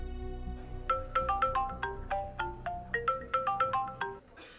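A mobile phone ringtone plays a melodic tune of repeated bright notes while an outgoing call rings through in a domestic drama scene, moderately loud and clear with no talk over it.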